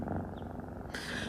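A cat purring close by, a steady, rhythmic low rumble throughout with a slight shift near the end.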